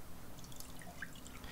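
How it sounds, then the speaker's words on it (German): Water is poured into a container in a faint, short trickle with light drips, close by, in a quiet room and with no one talking. "So, schnell noch ein bisschen Wasser einschenken."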